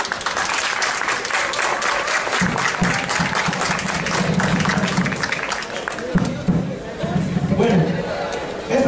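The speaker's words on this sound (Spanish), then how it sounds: "a que pido que le demos un fuerte aplauso" Sustained audience applause fills a university cultural afternoon after a choir and dance group performance, dense steady clapping throughout with some crowd chatter mixed in.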